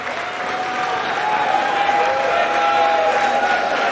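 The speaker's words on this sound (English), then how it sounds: "Ironic applause." Ironic applause from the crowd at a 9-ball US Open pool championship in Atlantic City, a dense steady patter of many hands sustained throughout, with a faint tonal hum underneath.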